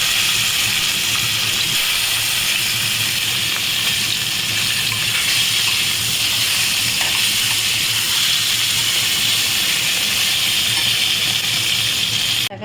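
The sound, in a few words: fish frying in hot oil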